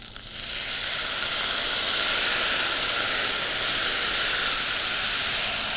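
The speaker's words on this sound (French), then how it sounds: "Ensuite, on va déglacer au cognac." Cognac poured into a hot pan to deglaze it sets off a loud, steady sizzling hiss of steam that rises quickly and holds near and constant throughout, with no talking.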